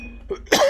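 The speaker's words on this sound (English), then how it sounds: "I was about to cough." A single short, sharp cough bursts out close and loud after a brief quiet moment.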